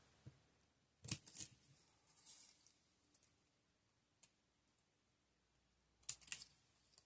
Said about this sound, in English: I'm going to trim that off, white border